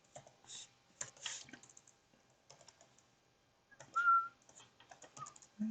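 Keys tapped on a computer keyboard in short irregular bursts, quiet and close, with pauses between runs and a brief whistle-like tone partway through.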